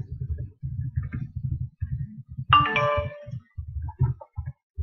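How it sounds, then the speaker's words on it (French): A mobile phone rings with a brief melodic chime, heard once in the middle under a steady, rhythmic low background hum. "C'était mon téléphone, désolé."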